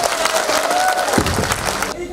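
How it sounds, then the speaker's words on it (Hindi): An audience at a large seminar claps in honour of Lord Ganesh, a dense burst of applause with some cheering, voices mixed in, cutting off sharply at the end. "चलिए एक बार जोरदार तालियां गणेश भगवान के नाम पे प्लीज"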